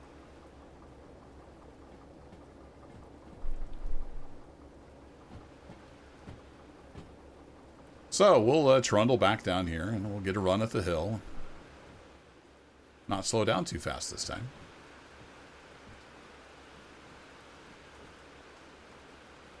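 Steady rain hisses across the scene in the train game Derail Valley, a soft continuous wash of noise running beneath occasional bursts of someone talking.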